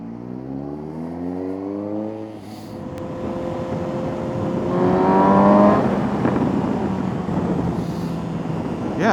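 A Suzuki GSX-S motorcycle pulls away and accelerates, its engine note climbing through the gears in rising sweeps, loud and close, with steady road and wind rush underneath.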